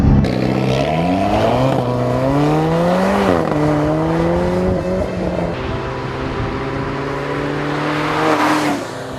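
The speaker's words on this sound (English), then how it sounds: "Sounds like a four-cylinder symphony, and it's deep too" Loud, close engine note from a 2015 Alfa Romeo 4C's deep-sounding four-cylinder under 2 liters, revving up and down in rising and falling sweeps, then holding a steadier drone.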